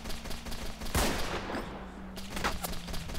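Gunshots ring out in a video game: a sharp loud shot near the start and another burst later, over steady background game noise with no speech.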